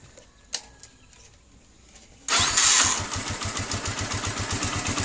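A motorcycle engine fitted with a Nibbi 28mm carburetor catches suddenly after a quiet lead-in with a couple of small clicks, then settles into a loud, steady idle with even, rapid exhaust pulses.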